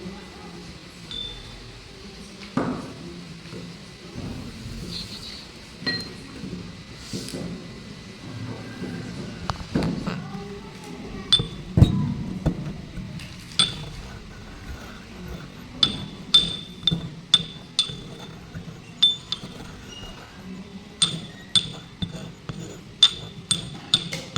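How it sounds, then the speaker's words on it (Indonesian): Stone pestle clinking and grinding in a mortar as a sample is crushed to powder for a chemistry surface-area experiment, with irregular taps that become a steady run of sharp clinks toward the end. "satunya lagi kita gerus sampai menjadi serbuk dengan menggunakan lumpang atau alu"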